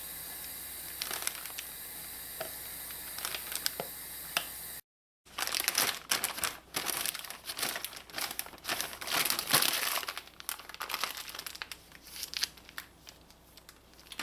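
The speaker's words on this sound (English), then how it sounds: "So I'm going to fill my batter into this Ziploc bag." A plastic Ziploc bag crinkles and crunches up close as it is handled and filled with jalebi batter, with a brief cut of silence before denser, busier rustling.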